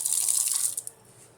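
Water runs from a kitchen tap in a single room, a steady bright hiss for most of the second before tapering off with a couple of small splashes as the flow stops.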